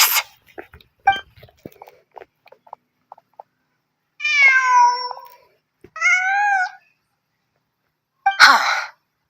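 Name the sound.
cat meowing in Genshin Impact video game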